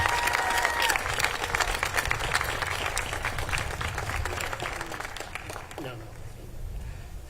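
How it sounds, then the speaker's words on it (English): A large audience at Rhode Island College gives sustained applause for state leaders at a Hope Scholarship launch, steady clapping with some voices and cheers that tapers off toward the end. "Please give them another round of applause."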